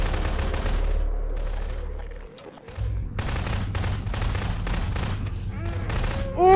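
Rapid gunfire in Garry's Mod during a dark horror hide-and-seek round, fast repeated shots in dense bursts with a brief lull midway, loud and close over a low rumble, with a voice briefly at the end.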